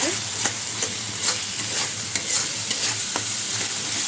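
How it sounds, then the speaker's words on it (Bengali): Spice masala fries in a pan, giving a steady sizzle broken by the soft scrapes and knocks of stirring, with no talking. "তো মশলাটা আমার ভাজা হয়ে গেছে"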